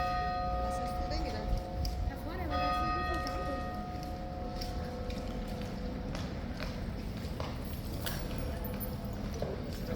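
Horses' hooves clip-clop on hard ground at Horse Guards, a scattered, moderately distant clatter under voices, with bell-like ringing tones and background crowd noise.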